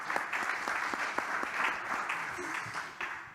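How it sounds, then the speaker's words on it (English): An audience claps steadily at an International Astronautical Congress conference panel, a moderate, evenly sustained round of applause with no voices over it. "A big round of applause."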